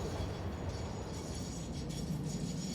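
A plastic-hauling train in the Satisfactory factory game rolls past with a steady low rumble and faint rail clatter, continuous and fairly close, with no talk over it.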